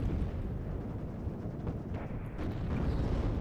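Mortar rounds land repeatedly in the WARNO real-time strategy game, a continuous loud rumble of overlapping low explosions with no clear gaps between them.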